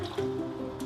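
Alkaline ionized water from an Enagic Kangen machine poured into several containers, a close, steady liquid fill with soft dribbling and tonal pouring resonance lasting under a second.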